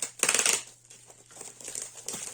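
A plastic garbage bag crinkles while being handled during a parcel unboxing, a loud crackling burst up close followed by quieter intermittent rustling and a second crackle at the end.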